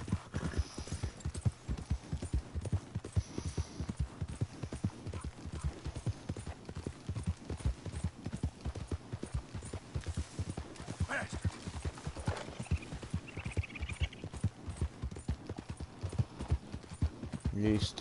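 Horse hooves clip-clop steadily in the video game Red Dead Redemption 2, a brisk continuous trotting rhythm throughout, with someone speaking over it now and then.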